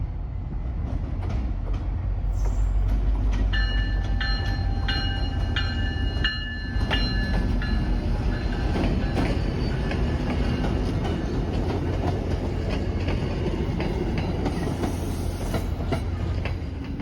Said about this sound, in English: Here is an early morning outbound arriving at Rockport.